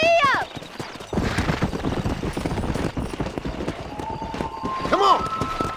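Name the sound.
horse galloping in video game Red Dead Redemption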